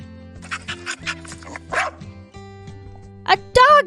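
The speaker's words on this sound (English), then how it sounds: "A dog makes that sound." A dog barks and yips in a few quick, close bursts over a light musical background in a children's animal-sound guessing game, ending with a louder whimpering yelp.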